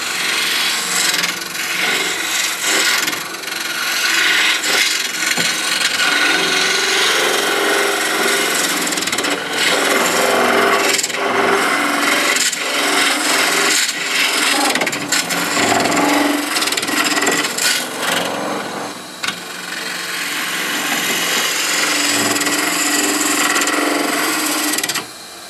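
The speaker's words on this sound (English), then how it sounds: "Here's my spindle gouge." A spindle gouge cuts into a spinning box blank on a wood lathe, making a loud, sustained rasping shear. The scraping swells and eases in waves, briefly cuts out near the end, then resumes, with no voices over it.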